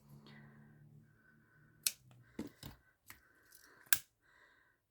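A few sharp, separate snips from scissors trimming the material of a handmade shaker hair clip, close and fairly quiet, with a low steady hum underneath and no talking.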